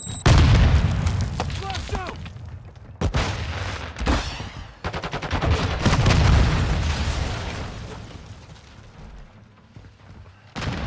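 A Semtex grenade explodes during a Call of Duty: Modern Warfare II Kill Confirmed match on Crown Raceway, giving several loud booms mixed with bursts of gunfire and rumbling aftermath, with game voices heard.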